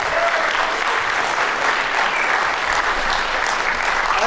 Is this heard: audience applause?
yes